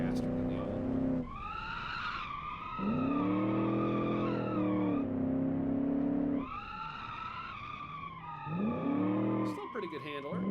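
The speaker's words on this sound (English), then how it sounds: "we just spun all that power away on the inside wheel there" A heavy, large car with an open differential spinning its inside wheel in the Automation video game, with repeated loud tire squeals and revving engine in bursts, alternating with stretches of engine drone.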